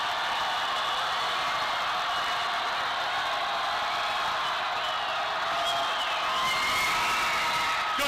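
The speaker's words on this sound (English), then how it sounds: "Crowd going nuts on both sides" A basketball crowd roars through a tight state semifinal finish at Mountain View High, a dense, sustained wall of cheering and shouting that stays loud and steady across the whole stretch with no break.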